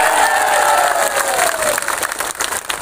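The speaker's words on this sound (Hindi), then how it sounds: "हम लोग सब एक बार ताली मारें इनके लिए" Audience clapping in applause at a political meeting, a dense crowd roar with cheering that fills the whole moment loudly and steadily, with no individual voice standing out.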